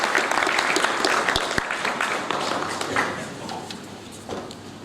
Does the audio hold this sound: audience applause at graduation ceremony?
yes